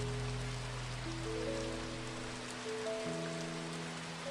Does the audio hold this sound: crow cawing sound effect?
no